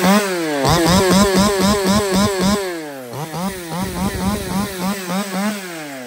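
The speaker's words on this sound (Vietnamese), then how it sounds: "nói chung là một em máy cưa xích hàng tay cụt mạnh nhất trong dòng máy cưa hàng tay cụt mini nhỏ gọn nha mọi người" STIHL 020T top-handle chainsaw, an original German-made mini model, idling and blipping the throttle in repeated rising and falling revs, loud and close with no talk.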